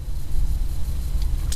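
A car engine rumbles low and steady at minus 20 degrees after its frozen battery was charged, a continuous close idle with slight unevenness and no voices.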